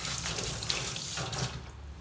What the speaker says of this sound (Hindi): इमीडिएटली आप हाथ धो लें